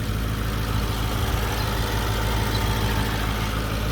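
A stock Ford Mustang 5.0 V8 idles while warming up, with a bone-stock intake box: a steady, even low rumble with a faint throb, close and unbroken, with no voices.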